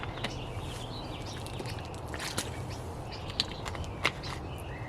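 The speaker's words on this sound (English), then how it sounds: "These birds are really noisy all this time." Birds chirp and call intermittently over a steady background hiss, with a few sharper calls standing out near the end.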